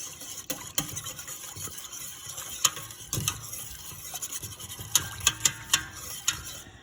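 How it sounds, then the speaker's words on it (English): A spoon stirs half a tablespoon each of Tabasco and Worcestershire sauce in a pot for Cajun seasoning, giving soft repeated scraping and several sharp metallic clinks near the end, close and moderately quiet, with no one speaking. "I'm gonna put half a tablespoon of my Tabasco and half a tablespoon of my Worcestershire sauce in there. I'm gonna mix that up real good."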